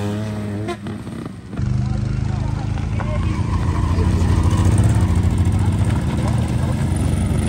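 Groups of motorcycles arrive at night at the Stella Alpina mountain rally. Their engines rumble loud and close, building after a brief quieter moment into a sustained roar of several bikes together, with voices faintly mixed in.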